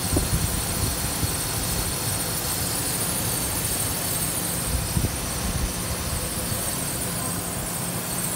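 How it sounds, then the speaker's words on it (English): A 2008 Ford Ranger 2WD V6 engine idles with an even, smooth rumble and broadband hum, no knocking or revving, heard close up. "See the motor here, it left the truck running. Hear how quiet it is, no knocking whatsoever."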